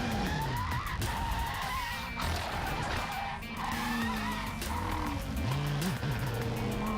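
An Audi R8 LMS race car spins twice around on the Zhejiang International Circuit, its tires howling in long, rising and falling squeals over loud engine roar, with other cars running nearby.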